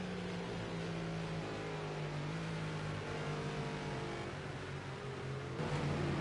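Several McLaren race cars drone together around Snetterton in Project CARS 2, a dense, constant engine hum at steady pitch that swells slightly louder near the end, with no voices.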